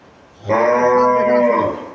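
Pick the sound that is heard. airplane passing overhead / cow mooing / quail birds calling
cow mooing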